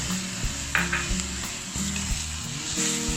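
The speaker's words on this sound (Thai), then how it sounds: "เดี๋ยวขั้นตอนต่อไปผมก็จะใส่ พริกกับกระเทียมสับนะครับ ใส่ลงไป" Chopped chili and garlic sizzle in a hot pan with stir-fried minced pork, a constant loud frying hiss broken by scraping of a utensil against the pan and occasional metallic clinks, with no talking.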